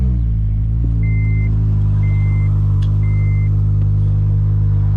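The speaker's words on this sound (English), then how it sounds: "One thing I do gotta fix is this exhaust leak" Car engine idling with an exhaust leak, a loud, close, steady low rumble with strong droning harmonics, alongside three evenly spaced electronic beeps and a brief click.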